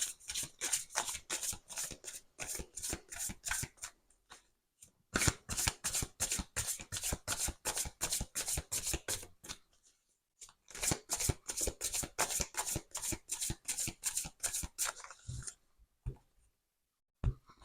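Tarot cards are shuffled by hand in a quiet room: long runs of crisp, rhythmic riffling and slapping, close and steady, broken by a few short pauses, with no voices.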